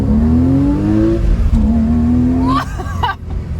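Porsche Cayenne GTS engine revving hard and pulling through the gears, a loud near rising drone that climbs, dips at a shift, then climbs again, with shifting tones toward the end.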